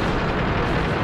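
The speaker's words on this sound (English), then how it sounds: "I got shot by an Artie" An artillery shell strikes in the World of Tanks video game, a loud, dense boom and rumble that fills the whole short moment with no pause.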